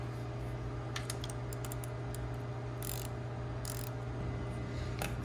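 A ratchet clicks in quick, light bursts while removing a bolt on a Honda CRF250X, faint and close over a steady low hum, with short pauses between strokes.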